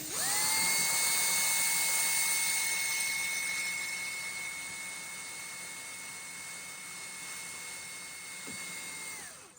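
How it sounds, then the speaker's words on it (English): A high-pitched power drill whines steadily for several seconds drilling starter holes in metal for jewelry, winding down near the end, close and loud. "I'll drill a couple of starter holes"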